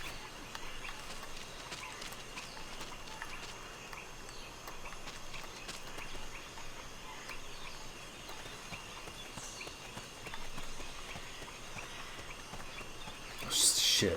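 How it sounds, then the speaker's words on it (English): Footsteps of someone approaching in the video game Metal Gear Solid: Peace Walker, soft and fairly faint steady steps under a low game ambience, with a brief louder burst near the end. "I just heard footsteps."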